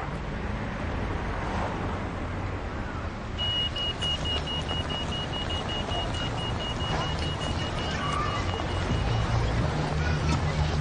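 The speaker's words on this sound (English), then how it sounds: "Wait for the lights to stop the traffic." Road traffic rumbles steadily beside a pedestrian crossing, with a continuous roar of passing vehicles and a thin electronic tone, likely the crossing signal, sounding through the middle.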